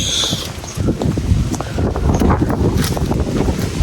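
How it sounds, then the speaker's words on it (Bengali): Cold wind blows outdoors in a Bangladeshi village near a pond, buffeting the microphone in loud gusting rumbles. A faint rustle comes through the wind, with no speech. "ও কি বাতাসটা কিন্তু আসলে অনেকটাই মজা লাগতেছে, ঠান্ডা বাতাস।"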